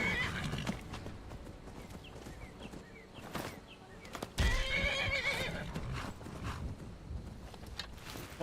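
A Skyrim horse being attacked lets out repeated whinnies and neighs amid hoof clip-clops and scuffling, with a louder burst midway and quieter game noise around it.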